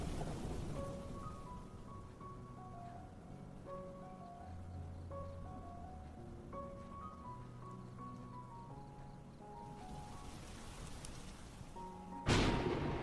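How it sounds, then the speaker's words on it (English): Heavy rain pours down as a soft, constant hiss under gentle melodic background music, growing in intensity near the end and ending with a sudden loud burst of rain or thunder. "The sound of the rain seemed to wake Lily."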